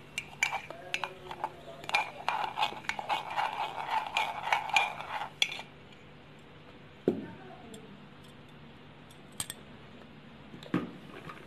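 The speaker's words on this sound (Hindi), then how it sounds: "अब इसे मिक्स करेंगे जब तक इसका कलर चेंज ना हो जाए।" A spoon stirs a coffee mixture for homemade cappuccino, mixed until its colour changes, with rapid clinking and scraping against the cup for about five seconds, then near quiet broken by a few isolated taps.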